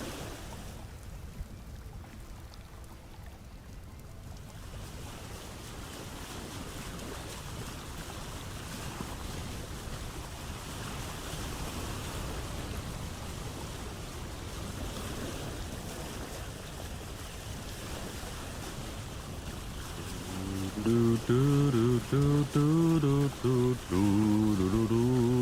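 A boat sails over ocean waves in the game Vintage Story, with a steady rush of wind and water throughout and a musical tune rising over it near the end.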